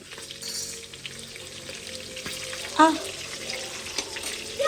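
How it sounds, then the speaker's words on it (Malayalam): Pieces being deep-fried in hot oil for a homemade mandi dish, a steady soft sizzle and bubbling with occasional clinks and stirring, fairly faint and close. "ഏകദേശം ഈ ഒരു പരുവത്തിൽ പൊരിച്ചെടുക്കുക"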